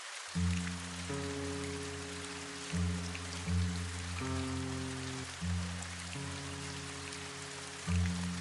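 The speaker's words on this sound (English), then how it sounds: "The rain pounded the streets like a relentless drummer" Heavy rain pounds city streets as a steady, close wash of hiss under sustained, slowly changing musical chords, with no voices.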